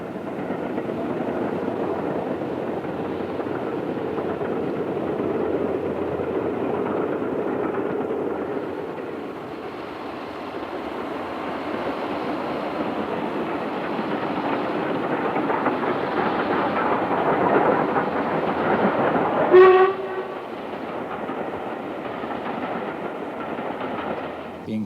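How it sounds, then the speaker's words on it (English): A steam train rumbles past on the railway arriving at Kyle of Lochalsh in the Scottish Highlands, a long steady roar with rhythmic clatter building, then a sharp whistle-like squeal before it fades. "the long-forgotten atmosphere of a steam arrival at this remote Highland terminus"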